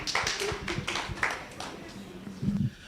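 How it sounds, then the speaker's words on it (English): A small conference gathering claps in uneven bursts of hand strikes, fairly close, with voices talking at moments alongside the clapping. "We also clap hands for you"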